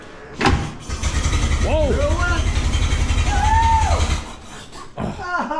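A 113-year-old car engine cranking and trying to start: a rapid mechanical chugging rhythm under whooping exclamations and loud talk, sputtering for several seconds and then stopping before more voices.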